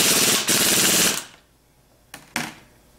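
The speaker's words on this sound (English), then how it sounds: "We have the half-inch impact set to clockwise with the 15/16 socket." A half-inch impact wrench with a 15/16 socket hammers on an alternator pulley in a loud rattling burst of about a second, followed by two short sharp blips after a pause.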